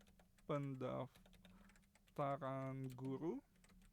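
Soft, rapid keyboard typing clatters quietly throughout, with a person talking in two short bursts over it.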